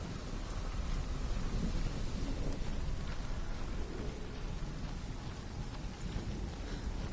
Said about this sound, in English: Oh man, even the rain is awesome.